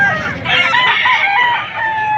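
A banded nine-month-old Early Bird gamecock crows once, loud and close, one drawn-out call at a rooster sale in Padre Garcia, Batangas.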